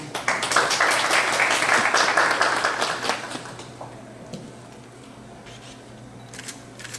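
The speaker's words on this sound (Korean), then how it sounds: "박수로 맞이해 주시기 바랍니다" An audience at a Sony Alpha a5100 product presentation applauds a speaker, a loud burst of close clapping mixed with camera shutter clicks that fades after about three seconds, leaving quieter shutter sounds.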